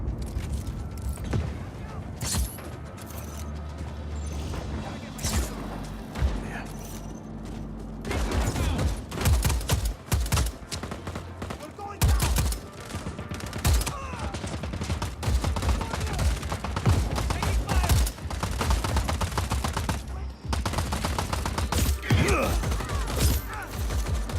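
Shotgun blasts and other gunfire in the open-world action game Just Cause 4, a busy, loud mix of repeated sharp shots, mechanical clatter and crashes over game sounds, with some speech mixed in.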